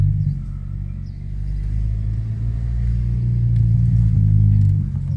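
A car held in first gear rolls along with a steady low engine drone and rumble, rising slightly in loudness toward the end, no talking.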